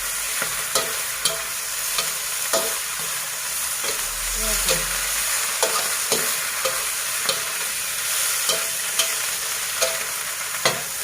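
Garlic stir-fried in a pan for cabbage fried with fish sauce, a loud continuous sizzle punctuated by regular sharp spatula clacks, close up, with a brief low rumble midway.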